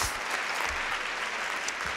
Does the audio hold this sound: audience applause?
yes